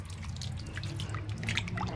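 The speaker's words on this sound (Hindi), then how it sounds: "मैं इसको अच्छे से इसमें दोबारा हाथ से मसल के मिक्स करूँगी" Wet multani mitti clay mud is squished and kneaded by hand, giving soft, sticky squelches and drippy smacking sounds that run continuously and close up.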